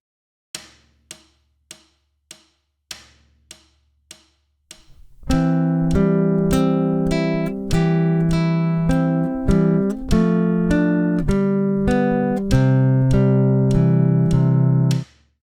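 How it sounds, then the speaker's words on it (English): Fingerstyle guitar plays the second line of Fernando Sor's Andante, Opus 35 No. 1, at 100 bpm: eight sharp count-in clicks give a two-bar introduction, then sustained plucked chords and melody ring out steadily and close up. "So here's line 2 being played at 100 beats per minute with a 2-bar introduction."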